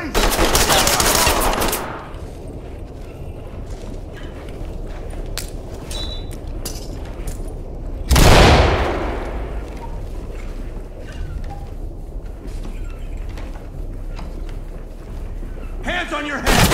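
Loud, close automatic gunfire bursts in the tactical shooter Ready or Not, with a long opening burst and another sharp volley midway over a busy background, and voices talking.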